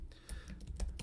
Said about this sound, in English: if I actually went back in here and typed in Avengers Endgame